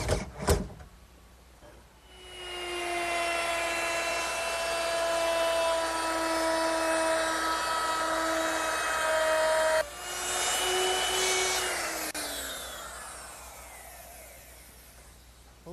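A power drill drives regular screws to fasten a wooden dresser top, giving a steady close motor whine for several seconds. A second, shorter burst winds down in pitch, with faint clicks before the first run.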